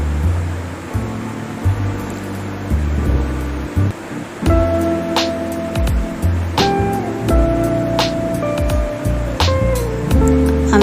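Running water pours steadily over raw chicken pieces being rinsed in a kitchen, a continuous close splashing rush broken by small clinks and squelches as the meat is handled.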